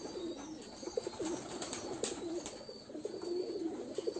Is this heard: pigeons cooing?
yes